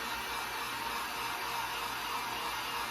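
A hair dryer runs steadily, drying water-based paint: a constant close airy whir with no pauses and no voices.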